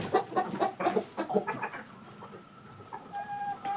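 Egg-laying hens on a farm cluck in a busy burst of overlapping calls up close, then settle into scattered softer clucks and a few higher squawks.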